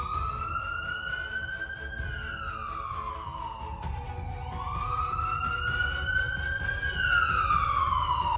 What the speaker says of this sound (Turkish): Aha, ambulans Baldi'yi götürdü ya.